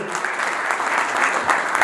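An audience claps steadily at a 14 January Defenders of the Motherland Day ceremony, a brief, even burst of close, crisp applause with no speech over it.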